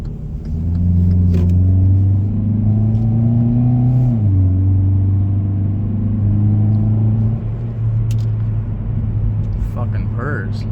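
A 2018 Hyundai Elantra with a 2.0 engine pulls in a steady, loud, close induction drone that rises in pitch as it revs, dips, and settles back to an even hum.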